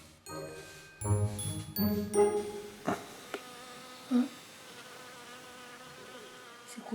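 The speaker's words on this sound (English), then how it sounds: "What's that fly doing there?" Fly buzzing near a young orphaned gorilla, an intermittent whine under tonal ringing and scattered knocks, close and fairly clear, with no talking.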